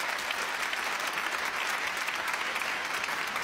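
An audience on a talk show claps steadily to welcome a guest, a dense and even applause that holds at full strength throughout.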